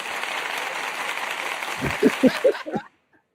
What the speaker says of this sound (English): Get a brother a hand clap.